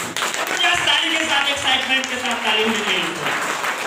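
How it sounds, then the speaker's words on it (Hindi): Audience clapping loudly at a motivational speech event, continuous applause that runs under a voice speaking or singing over it throughout. "अपने लिए जोरदार ताली बजाएंगे"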